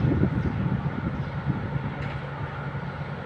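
Low steady rumble of an excursion passenger train idling or moving slowly at Bangkok railway station, with a continuous mechanical drone and faint clanks, no voices.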